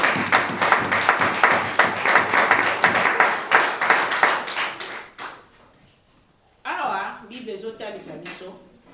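Church congregation clapping in a rhythmic, steady beat for several seconds, fairly loud and full, then fading out before a voice begins speaking.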